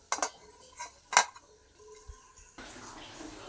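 Boiled potatoes lifted out of a pot of cooked rice, with a few sharp metallic clinks and scrapes of a utensil against the pot early on, then a quieter stretch and a steady background hiss at the end.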